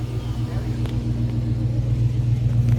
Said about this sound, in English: this was just a video of the car idling